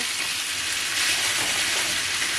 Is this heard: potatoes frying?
yes